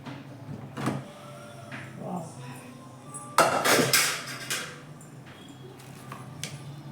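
Metallic clanks and scraping as a heavy pressure cooker lid is twisted and lifted, a burst of clatter midway, then lighter knocks; quiet background otherwise.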